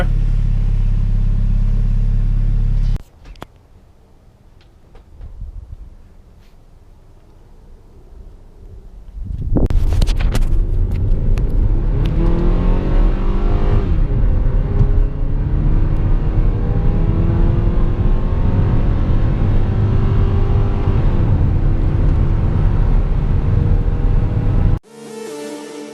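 A turbocharged Honda Civic with a bumper-exit wastegate drives off. A quiet idle gives way to a loud, sustained engine roar under acceleration that holds for about fifteen seconds before cutting off abruptly.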